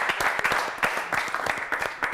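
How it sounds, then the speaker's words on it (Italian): A small studio audience on a local television football show applauds a youth club president, with distinct individual claps in a quick, slightly uneven rhythm, fairly close and moderately loud. "il presidente Gigi Barlera, un applauso lo merita e tocca a lui"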